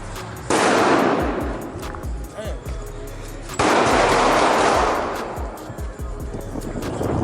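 Gunfire erupts on a Black Lives Matter themed music video set, two loud, abrupt bursts of shots with heavy rumbling reverberation around the one-second and three-and-a-half-second marks, followed by lingering noise and commotion.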